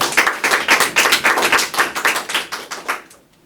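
Audience applause after a mock trial on deepfake regulation: a burst of brisk, steady clapping from a room full of people, close and loud, tapering off over about three seconds.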